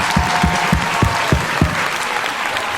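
Audience applause and cheering for a music producer at a beat-making show, a steady wash of clapping from a crowd with a few louder rhythmic claps standing out near the front.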